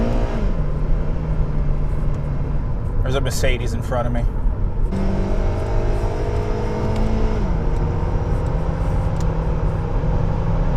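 An Acura TSX VTEC engine accelerates onto a highway from inside the cabin, its droning tone climbing and dropping through gear changes as someone talks over it.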